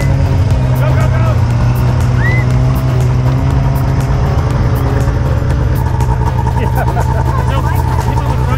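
A snowmobile's engine drones loud and steady while riding a trail, a continuous close motor roar with voices talking faintly underneath.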